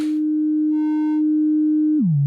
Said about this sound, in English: I'm using the 1F as a crossfader between the sine wave and the triangle.